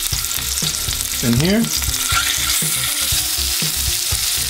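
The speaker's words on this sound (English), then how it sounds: "so we're gonna go ahead and put the rest of the shrimp" Shrimp for blackened coconut lime shrimp frying in hot oil, a steady loud sizzle throughout with stirring scrapes and a brief voice mixed in.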